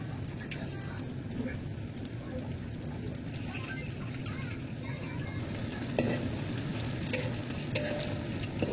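Tofu frying in oil over low heat, a steady, soft sizzle and crackle running continuously at an even level throughout, with no talking.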